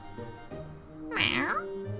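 A cartoonish cat meow in a crafting-store video game, a single rising-and-falling call heard once, fairly clear, with faint game sound before and after.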